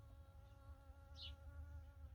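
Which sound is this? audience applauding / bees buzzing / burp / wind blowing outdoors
bees buzzing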